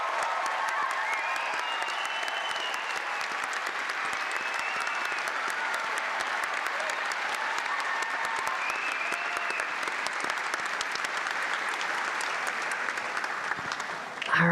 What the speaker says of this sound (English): Audience, let's give them a big round of applause while they take it all on